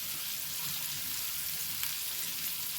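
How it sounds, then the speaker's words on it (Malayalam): Onion, green chili and ginger sauté in a hot pan, giving a steady, soft hiss of frying with no break. "പാൻ ചൂടായി ഞാൻ ഇതിലേക്ക് ഉള്ളിയാണ് ഇട്ട് കൊടുക്കുന്ന ആദ്യം പച്ചമുളക് ഇട്ട് കൊടുക്കാം ഇഞ്ചി ഇട്ട് കൊടുക്കാം"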